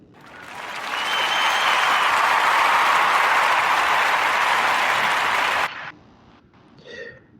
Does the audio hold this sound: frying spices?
no